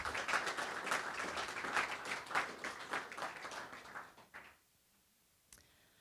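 Room of attendees at a community creek alliance meeting claps for water quality monitoring volunteers, a dense burst of applause that tapers off after about four seconds into near silence with one faint knock.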